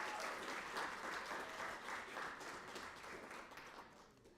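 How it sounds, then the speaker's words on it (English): An audience applauding at an annual calendar ceremony for children's artwork, dense steady clapping from a crowd indoors that gradually tapers off toward the end. "can we have another round of applause?"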